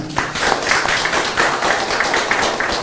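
An audience applauding at a political party meeting and press conference in Gangwon Province, with dense, steady clapping from many hands filling a room, close and fairly loud, and no talk over it.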